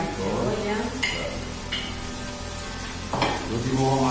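Zucchini, tender garlic shoots, onion and other vegetables fry in a pan with a steady, close sizzle. Utensil scrapes and clinks break in, and someone talks faintly over it.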